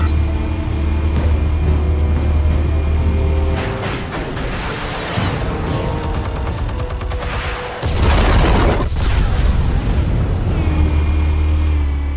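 Explosives detonating in the Batman Telltale Series video game: a steady loud rumble of game ambience breaks into bursts of booming blasts and crackling debris, with a second heavy impact surge near the middle, all without talk.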